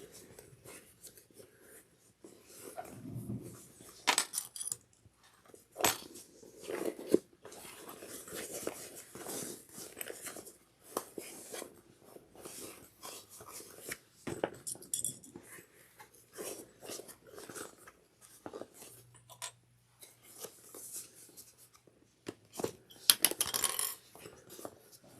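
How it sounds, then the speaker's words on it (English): Folded lining of a crossbody bag fastened in places with sewing clips: scattered close small plastic snaps and clicks with fabric rustling and handling noises over about twenty-five seconds, with no voice. "I'm just going to fold the lining in on itself and then clip it in places."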